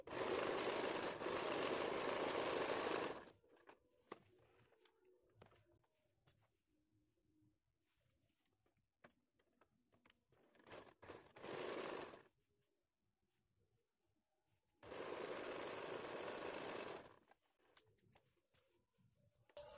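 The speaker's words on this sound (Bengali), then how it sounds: "সোজা করে প্রথমে একটা সেলাই দিয়ে দিচ্ছি উপর থেকে" Sewing machine stitching a designer party-wear blouse, running in three loud bursts of rapid steady needle clatter separated by quiet pauses with faint handling noises.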